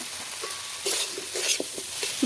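Fried soybean chunks and potatoes are stirred into a spiced masala in a pan, with repeated spatula scrapes and knocks over a low, steady sizzle.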